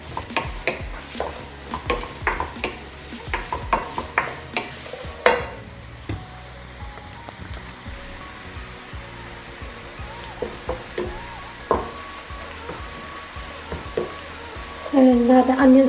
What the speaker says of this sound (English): Turn the heat up and fry them until it goes brown.